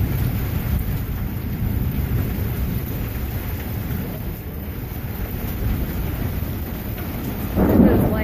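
A thunderstorm with heavy rain and gusting wind makes a continuous deep rumble of thunder, steady and loud throughout, swelling briefly near the end.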